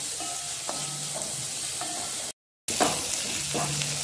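Onions, green chillies and curry leaves sizzle in hot coconut oil, a steady close frying hiss broken by a few scraping stirs and a brief cut to silence midway.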